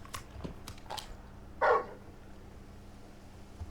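Torgal, the dog in the Final Fantasy XVI video game, gives a single short bark, clear and mid-loud over quiet game ambience, followed by a few faint softer sounds.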